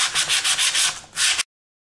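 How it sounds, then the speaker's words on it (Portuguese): Sandpaper is rubbed over a painted party tray in quick back-and-forth strokes. About seven short, close, rasping passes run without pause, then the sound cuts off abruptly. "E aí eu vou dar uma lixadinha nele"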